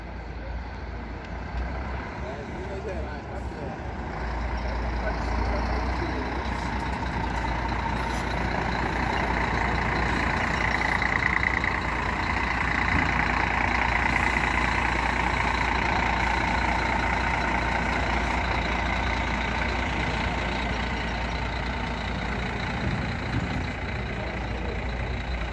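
Gontijo buses idle and maneuver in the company's bus garage in Belo Horizonte, a continuous low diesel rumble with rising engine noise and hiss, moderately loud, with faint talk in the background.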